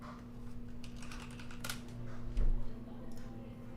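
Rapid clicking of keys on a computer keyboard while typing a message into Discord, steady and close, over a constant low electrical hum.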